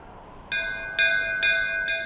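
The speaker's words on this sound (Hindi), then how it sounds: "2 या 3 नंबर के घर से घंटी की आवाज आती है।" A bell rings four times at an even pace, each strike bright and ringing with a sustained tone over a quiet background hum.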